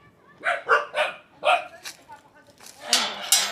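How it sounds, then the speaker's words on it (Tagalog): Dogs bark close by in a quick burst of several sharp yaps, then a louder flurry near the end. "nakakagulat yung mga aso"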